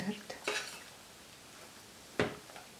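A spoon clinks and scrapes against a pot on the stove while marshmallows melt for homemade fondant: a few sharp metallic taps in a quiet kitchen, with long pauses between them.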